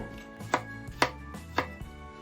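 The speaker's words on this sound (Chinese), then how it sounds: "咱们再切点西红柿丁" A knife dices tomatoes on a cutting board, three crisp, evenly spaced chops close by with quiet pauses between them, no voices.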